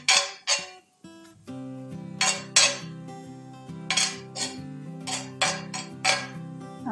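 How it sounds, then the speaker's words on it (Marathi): A metal spoon scrapes and clinks against a new iron tawa while onions fry to season it. The rhythmic, bright scrape strokes come close and fairly loud, over a steady tonal drone. "मी चमचा फिरवताना थोडासा आवाज येतोय"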